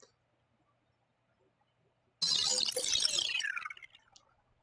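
A wet, liquid sci-fi movement effect run through a vocoder bursts in abruptly after silence, a dense squelchy, bubbling wash with a sweeping resonant tone that tapers away over about two seconds.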